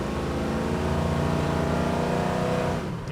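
A 1976 Chevrolet Monte Carlo with a 572 big-block V8 accelerates hard. Its loud, close engine roar is sustained and deep, then eases off near the end.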